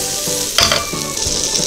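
Butter melts and sizzles in a heated frying pan before tofu goes in for a garlic steak, a steady crackling fry with a few louder hissing bursts and spatula stirring.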